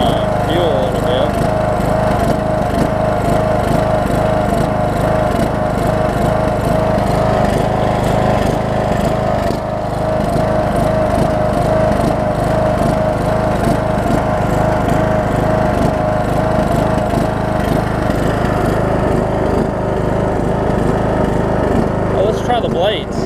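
A Troy-Bilt Bronco riding mower with a Briggs engine runs steadily nearby, a loud, even drone with a slight fuel-starved unevenness, continuing without a break.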